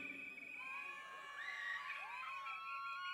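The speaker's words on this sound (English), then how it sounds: "All my girls scream." Concert crowd of women screaming and cheering at a live reggae dancehall show in Italy, a dense sustained wall of high-pitched shrieks and whoops filling the space.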